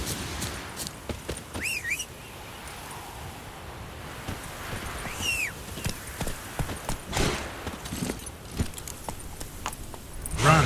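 Roach, the horse in The Witcher 3, gallops with a steady clip-clop of hooves under a wash of game ambience, a couple of whinnies and whistle-like cries rising briefly over the running.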